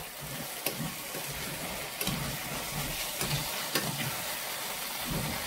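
Tomato pasta sauce with spices and fresh basil sizzles in a pan while being stirred, giving a steady hiss broken by periodic scraping strokes, faint and close, with no talking.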